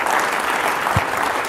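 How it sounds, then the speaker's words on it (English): Audience applause after a business talk, a steady dense wash of clapping from a crowd, filling the whole moment at even loudness with no voices over it. "let's applaud for that"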